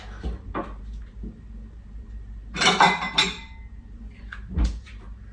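Bowls and dishes clatter as they are set out in a home kitchen while making pasta with cheese, with scattered clinks, a cupboard bump and a louder burst of crockery knocking together midway.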